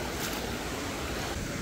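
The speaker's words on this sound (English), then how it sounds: "There is the famous waterfall." Waterfall with flowing water in a swimming spot on a sunny day, heard as a steady, loud broadband rush that holds without any break and drowns out other sounds.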